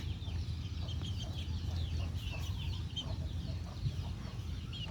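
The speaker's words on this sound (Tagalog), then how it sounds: "Mga native chicken ko guys." Native chickens on a farm cluck softly and keep it up continuously, with a few scattered calls over low background noise. There is no speech.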